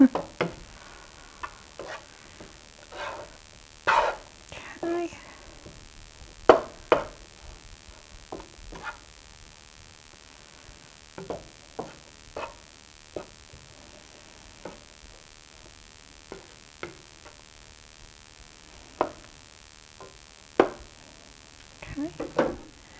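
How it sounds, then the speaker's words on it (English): Onions being stirred as they sauté in a pan for a hamburger casserole, giving a run of soft scraping strokes and light clicks of the utensil over a low, steady sizzle, close and with no talk. "So I'm going to give this a little stir. There's nothing that smells better than sauteed onions."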